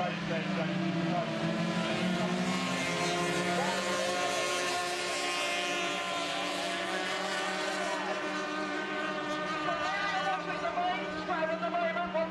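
Racing powerboats roar off the start at Oulton Broad in a national championship round, a steady layered engine drone with rising, overlapping whines under continuous commentary.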